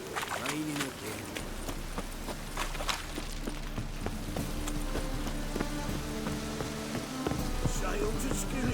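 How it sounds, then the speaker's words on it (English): Steady rain patters down in the streets of Novigrad in The Witcher 3, a soft continuous hiss with scattered drop ticks, heard under people talking and occasional horse hoof clops. "Raining again."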